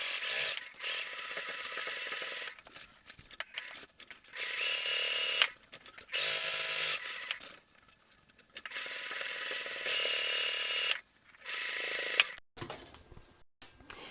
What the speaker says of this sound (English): So what we're going to do now is stitch with a 3/8 of an inch seam allowance, 1 centimetre, all the way around the sides and the top.